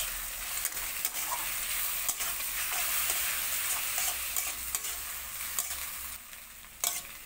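Potatoes and eggs stir-fried together in a pan for fried rice give a steady, close sizzle, with light scraping clicks from the stirring spoon scattered throughout.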